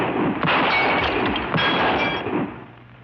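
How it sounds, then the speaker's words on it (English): Rapid gunfire from a shooting demonstration in an old Western TV episode, a dense, loud volley of shots and ringing reports filling the whole stretch with no pause. "I never saw shooting like that before."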